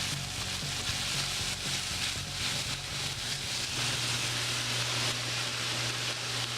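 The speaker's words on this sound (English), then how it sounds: "We're going to stir those in, get it mixed quite thoroughly through with the ground beef." Mixed vegetables stirred into ground beef frying in a pan for shepherd's pie, a steady close sizzle running throughout with light scraping and a low hum underneath, no one talking.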